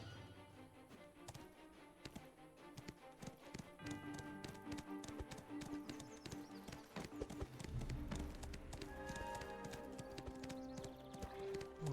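Horse hooves clip-clop steadily through the capital city of Calpheon in the online game Black Desert Online, a continuous mid-loud rhythmic trotting over a busy layer of game music and ambient sound.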